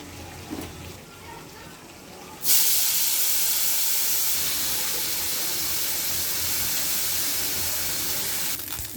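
Small fish rubbed with turmeric and salt drop into hot oil, setting off a sudden loud, steady hissing sizzle that continues unbroken after a quieter start with faint background voices.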